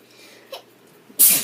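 A young child sneezes once, loud and close: a brief soft intake near the middle, then a sharp bright burst at the end that fades quickly.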